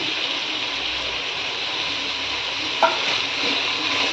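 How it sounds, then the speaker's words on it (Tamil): Green peas and fresh mint sauté together in a hot pan for brinji rice, giving a steady, close hiss of frying with a brief scrape of stirring near the end and no voices. "எல்லாத்தையும் போட்டு ஒன்றா வதக்கிடலாம்."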